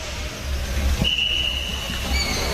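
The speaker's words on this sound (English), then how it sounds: "Final whistle." A referee's whistle blowing for full time at a Leeds Dynamos versus Norwich City football match, heard as a single thin sustained tone of about a second and a half over a steady crowd and ambient rumble, no talk.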